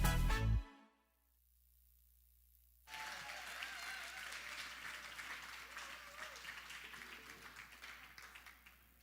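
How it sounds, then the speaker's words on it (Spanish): After a short burst of sound and a moment of near silence, a church audience breaks into sustained applause that slowly tapers off. "recibas con un fuerte aplauso a nuestro conferencista"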